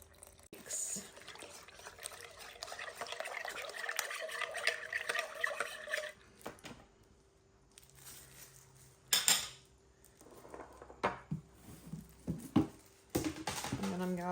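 Sourdough starter and water are stirred together in a bowl, with soft, wet sloshing and the scrape and clink of a utensil against the bowl. A few sharper knocks follow, and a voice talks quietly at points.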